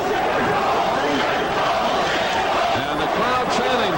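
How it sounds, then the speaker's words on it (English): A boxing arena crowd at a George Foreman versus Bert Cooper fight roars in a dense, loud, continuous mass of voices, with rising chant-like swells running through the whole stretch. "Crowd chanting George Foreman"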